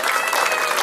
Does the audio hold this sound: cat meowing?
no